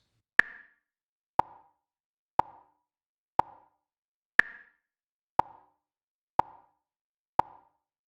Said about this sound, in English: 60 BPM is literally 1 beat a second